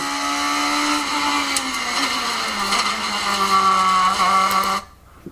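Radical SR3 race car at full throttle on a track at Apex Motor Club, a loud, steady, close engine howl with rising pitch that cuts off abruptly near the end as the driver lifts to brake.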